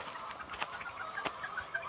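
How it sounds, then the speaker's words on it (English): A Bull Cochin bantam rooster makes soft, repeated clucking calls at close range inside a breeding cage on a poultry farm, short bursts recurring over a low background. "narito ang ating bull cochin na rooster"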